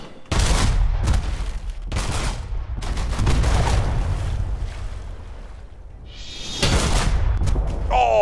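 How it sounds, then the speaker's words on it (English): Ship cannon fire in the pirate video game Unearned Bounty rumbles in repeated heavy booming volleys, several blasts overlapping with crackling impacts and a lingering low roar between shots. "They're all shooting at me."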